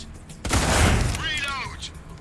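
A loud, booming gunshot burst rings out in a video game after a brief quiet moment, then decays into rumbling noise while a voice speaks over the tail.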